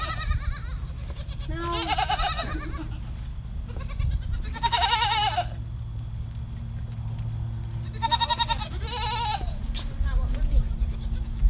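Goats bleat on a farm in November snow, with three loud, wavering cries spaced a few seconds apart over steady background rumble, while a person speaks briefly in between.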